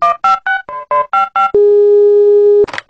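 A telephone line loudly plays a quick run of short, evenly spaced dialing beeps, then a single long steady tone that cuts off abruptly into a brief burst of other sound.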